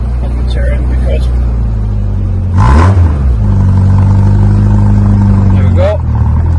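A 1979 MG Midget sports car rumbles steadily nearby with a low engine drone, swelling briefly as it turns on full lock, while someone talks over it.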